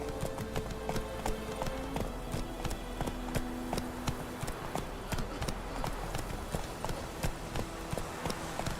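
Roach, a horse in The Witcher 3, gallops with a steady, rhythmic clip-clop of hooves throughout, moderately close, over an ambient game soundscape with occasional sustained tones.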